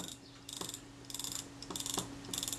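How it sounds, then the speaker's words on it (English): A Retina I type 010 camera with a door problem has its film advance wound: four separate bursts of fine ratcheting clicks, close and fairly faint, with short quiet gaps between them and no voices. "as I move the film advance, eventually it locks the film advance"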